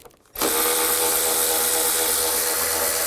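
A power tool, likely a drill driving an 8mm socket, loosens a bolt on a 2000-06 GMC Yukon coolant reservoir cover, starting abruptly and whirring loud and steady to the end, with no talking.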